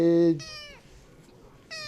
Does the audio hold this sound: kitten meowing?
yes